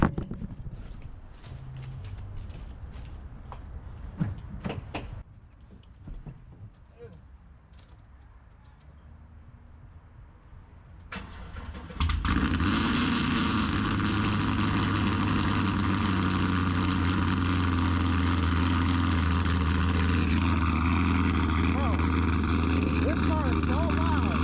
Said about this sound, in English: Y'all want to cold start on the G8?